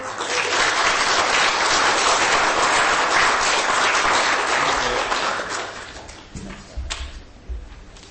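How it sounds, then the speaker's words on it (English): Council members at a Falkirk Council meeting give sustained applause in a chamber, steady and full for about six seconds before tapering off into a few scattered claps. "he's due a round of applause before he goes."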